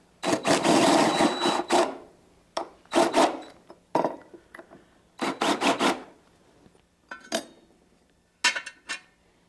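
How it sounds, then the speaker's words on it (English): Metal coilover parts are deburred by hand for a V8 Celica GT-SS, giving repeated rasping scrape strokes in short bursts with pauses between, close and fairly loud. "A little deburring."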